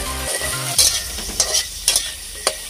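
Vegetables frying in a pan, with a steady background hiss broken by several sharp bursts of stirring or spatula scraping, close and alone without talk.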